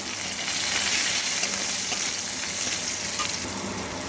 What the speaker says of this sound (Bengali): এবার দিচ্ছি সামান্য একটু পেঁয়াজ কুচি